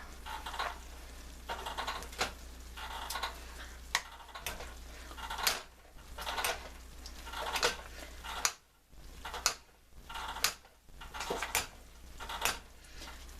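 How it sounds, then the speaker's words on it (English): Potatoes are mashed with a stick of butter in a pot, producing a steady series of soft thumps and clacks from the masher against the pot's bottom, close and fairly quiet over a low background hum. "I'm going to add 1 stick of butter, and I'm just going to start mashing"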